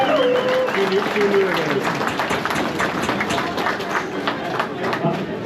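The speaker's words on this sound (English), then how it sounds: "So let's have a round of applause for them." A crowd applauds the volunteers in colored shirts at an Honor Flight gathering, with sustained, fairly loud clapping and a voice heard briefly at the start.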